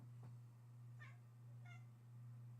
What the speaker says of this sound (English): my cat is yelling at me